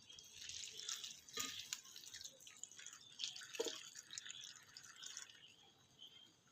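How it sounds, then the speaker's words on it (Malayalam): Water is poured from close by into a pot of jackfruit that holds salt and curry leaves, giving faint, irregular splashes and drips. "കുറച്ച് വെള്ളം ഒഴിക്കുക."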